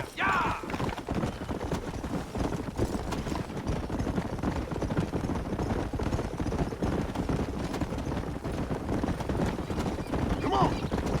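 A horse gallops in Red Dead Redemption, a steady rapid clip-clop of hooves running continuously at moderate level beneath game sounds, with voices talking over it.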